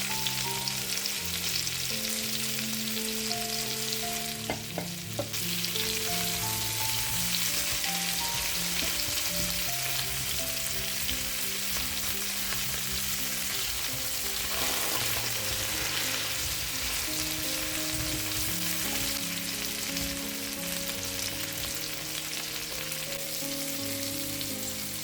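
Chopped garlic sizzles in a hot pan alongside pork tenderloin, a dense, continuous frying crackle with occasional stirring scrapes, loud and close, steady throughout with no voices.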